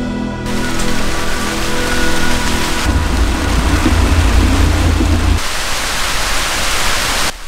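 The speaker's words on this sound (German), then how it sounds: "Jetzt regnet das gerade richtig." Heavy rain heard from inside a train pours steadily with a dense, roaring hiss and a deep low rumble in the middle, no voices, continuous throughout.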